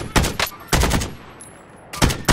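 Bursts of automatic gunfire in the Warzone video game, three loud clusters of rapid shots separated by a brief lull, up close and without talk.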